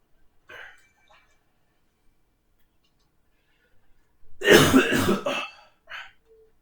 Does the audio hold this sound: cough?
yes